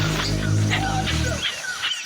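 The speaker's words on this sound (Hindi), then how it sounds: "अब हम मकड़ी बंदर की आवाज़ सुन सकते हैं।" Spider monkeys in the Amazon rainforest give faint, distant high whistling calls, several rising and falling cries spread over a steady low rumble of forest background.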